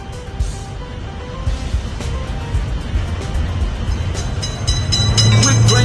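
A cartoon train rolls past a level crossing in a children's cars-and-trains game, a rising rumble and clatter that swells louder toward the end with bright game effects on top.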